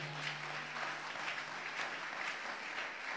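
A church congregation applauding in praise during a bishop's supernatural gathering event, a steady patter of many hands clapping at moderate distance, fairly soft and without speech.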